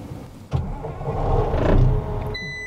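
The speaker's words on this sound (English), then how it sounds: "Generator started." A generator starts up on a Cat D6 XE hybrid dozer, a clunk followed by a rising mechanical hum that swells and settles into a steady run, with a faint electronic beep near the end.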